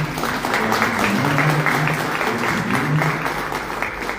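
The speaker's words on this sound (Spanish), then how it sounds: "un aplauso para ella" An audience applauds at a tribute ceremony, sustained dense clapping from a crowd in a hall, steady and fairly loud throughout without a break.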